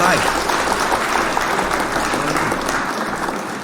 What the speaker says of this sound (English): hit the claps for being off work for spring break